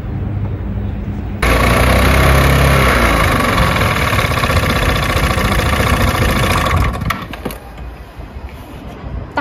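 A motorcycle engine kicks into life and settles into a loud, close, steady idle for several seconds, then cuts off, leaving a quieter rattle and low background noise.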